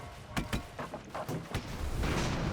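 An airship explodes in the strategy video game Airships: Conquer the Skies with a few sharp booming bursts in quick succession over a low rumble, fairly quiet and without talk.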